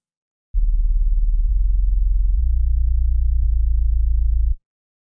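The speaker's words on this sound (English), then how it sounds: "this other channel is just to add that extreme low end, and you might have to turn on your subwoofer to hear this" Sub bass patch from a synthesizer, an extreme low end tone: a deep, steady humming note lasting about four seconds that shifts pitch a few times, loud and alone, with silence before and after.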